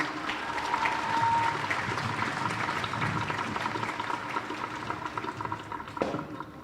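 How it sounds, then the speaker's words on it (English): A high school graduation audience applauds a woodwind quartet, giving a dense, steady round of clapping from a large crowd that thins out near the end. "Let's give them one more round of applause."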